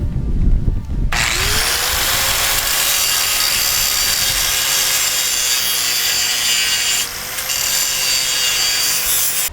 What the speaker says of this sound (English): now I'm just using the grinder to sort of make it a little bit tighter